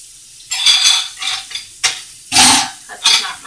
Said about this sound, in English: I'm going to wash a dirty bowl and a greasy, dirty plate for you